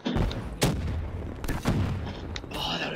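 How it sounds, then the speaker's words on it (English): In the Black Ops 3 video game, grenade blasts and gunfire crack and boom in close succession, loud and dense across the whole few seconds. "I'm just throwing grenades."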